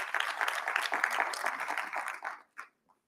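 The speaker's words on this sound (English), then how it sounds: "let's give another round of applause for Michaela" Audience applause fills a university town hall, dense clapping that runs steadily for about two seconds and then quickly thins to a few last scattered claps.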